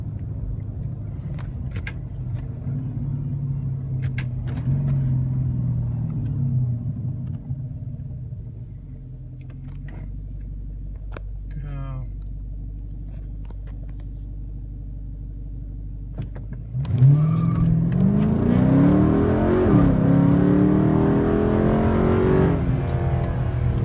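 A 2009 Dodge Charger R/T idles with a low rumble, then launches in a 0-60 run, its engine note swelling and climbing loudly as it accelerates hard, heard from inside the car.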